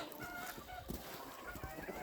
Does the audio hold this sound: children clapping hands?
no